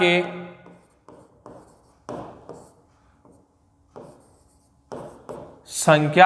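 Pen on paper writing out numbers for a maths problem gives short scratchy strokes in separate bursts between pauses, close and fairly quiet, with someone talking at the start and end.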